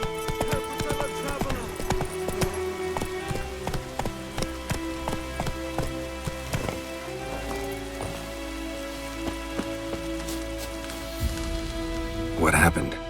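Galloping horse hooves in The Witcher 3, a rapid, even run of clopping beats close by over a patter like rain, ending in a louder burst, with some voices in the background.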